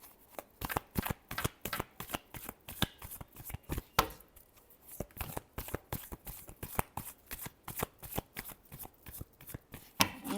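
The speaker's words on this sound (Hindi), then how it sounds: "Last shuffle." Tarot cards are shuffled by hand close up in a quick, regular series of riffling flutters and soft slaps, repeated steadily throughout without talk.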